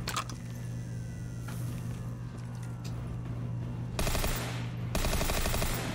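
PPSh submachine gun firing in Black Ops III custom zombies, rapid bursts of gunfire over a constant game hum, with a louder dense burst near the end.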